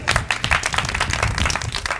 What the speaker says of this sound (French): S'il vous plaît, vos applaudissements.